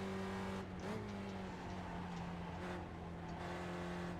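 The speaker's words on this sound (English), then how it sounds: "Just a little blip to get the thing revved up on the downshift" Spec Racer Ford engine in an iRacing sim race at Oulton Park drones at steady pitch, then gives a quick rev blip on a downshift before settling back into a sustained hum.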